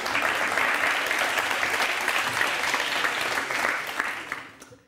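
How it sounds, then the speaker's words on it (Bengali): A studio audience on a televised courtroom-style celebrity talk show breaks into steady, sustained applause that fills the room, then tapers off at the end. "এতেও হাততালি।"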